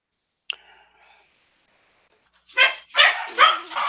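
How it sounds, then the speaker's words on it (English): A single sharp bark from a pet dog, then a short faint trailing sound, quiet for a moment, followed by close, loud whimpering or whiny vocalizing in several bursts. "no, that's my dogs."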